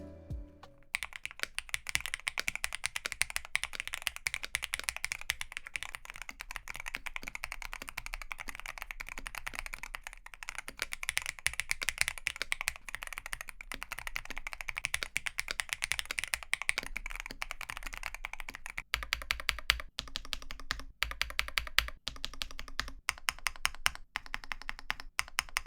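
Continuous typing on an Owlab OW60 keyboard, the first half with Owlab titanium switches and the second half with Wooting Lekker switches, producing dense, close-up clacking keystrokes that shift to a sparser, more distinct pattern partway through.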